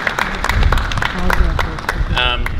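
Applause for performers about to lead a memorial march, a crowd clapping steadily throughout while a voice talks over it.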